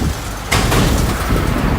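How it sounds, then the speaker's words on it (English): A gasoline or liquid tanker truck passes close by a cyclist on a road, a sudden surge of broadband engine and tire roar cutting in over steady wind rush and then lingering as it goes by. "It's the gasoline truck or some kind of liquid truck."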